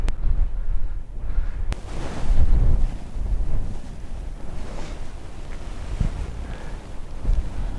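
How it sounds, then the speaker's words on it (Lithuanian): Strong winter wind buffets the microphone on an open hilltop near Mam Tor above Castleton, a steady roaring rush with gusts throughout and no voices. "Dabar vėjas pučiama į mane, ne nuo olos."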